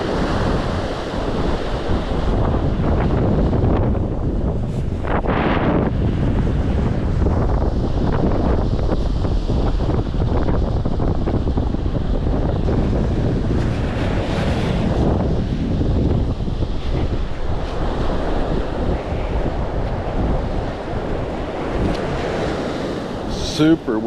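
Strong wind buffets the microphone at the shore, roaring continuously over crashing surf with gusty swells throughout.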